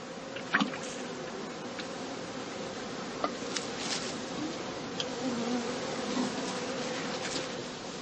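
Honey bees swarm around traditional straw skep hives at a German farm apiary, a dense continuous buzzing hum filling the air, close and steady with no talking.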